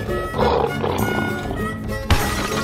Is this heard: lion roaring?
yes